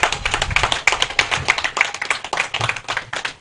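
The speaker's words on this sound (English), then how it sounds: "Media men too deserve a round of applause" A small group applauds at a media launch event, scattered uneven claps heard near and moderately loud for a few seconds.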